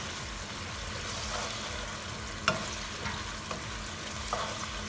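A pan of Thai beef curry with coconut sizzles and fries steadily at moderate level, with a few soft clinks of stirring scattered through.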